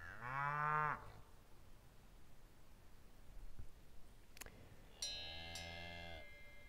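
A cow moos twice nearby, a loud low call at the start and a second, sustained moo about five seconds in, with quiet outdoor background between them.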